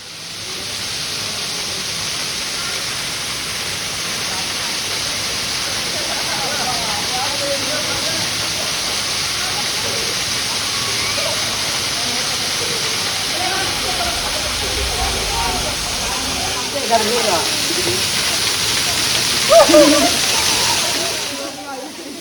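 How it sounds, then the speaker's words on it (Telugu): Sabbitham (Gourigundam) waterfall near Peddapalli, with water falling in two streams from high rocky hills, producing a steady, loud, broadband roar and hiss that continues without a break throughout. "మనకి ఎదురుగా ఈ జలపాతం ఉంటుంది."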